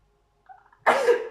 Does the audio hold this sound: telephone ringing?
no